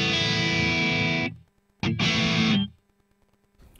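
Guitar played through a Kemper profiling amp's vintage chorus effect, set to a moderate rate and depth: a sustained distorted chord rings, cuts off, then a second shimmering chorused chord swells and decays into silence.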